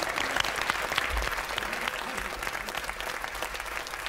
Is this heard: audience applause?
yes